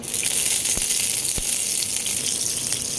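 Eggplant pieces fry in hot oil in a kadai, giving a steady, bright sizzling hiss broken by two sharp pops, with no talking.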